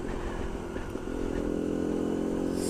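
Small 50cc Bullit Hero four-stroke motorcycle being ridden, a steady engine drone with wind rush that rises slightly in pitch partway through, close and continuous with no talking.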